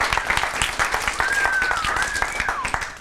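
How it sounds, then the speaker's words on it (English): Audience applause during an interactive teaching session, steady dense clapping with a whistle-like tone rising over it and voices mixed in. "Applause. Applause."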